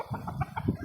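A chicken clucks a few quick, close notes in a short burst.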